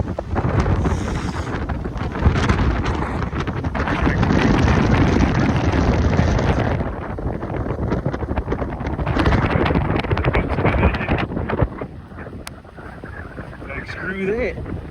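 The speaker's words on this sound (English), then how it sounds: "It's very windy." Strong gusting wind ahead of an approaching rain storm buffets the microphone outdoors in loud, continuous roaring bursts that ease slightly near the end.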